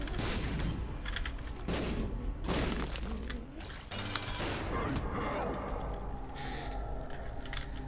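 Explosive shots fired from eyes in The Binding of Isaac, a dense run of booming blasts and shattering bursts layered over busy game sound, with someone talking throughout.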